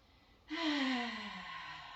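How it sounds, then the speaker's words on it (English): A single long vocalized exhale during a yoga flow class, starting abruptly and trailing off with a voiced, falling tone, close and alone. "vocalizing our breath"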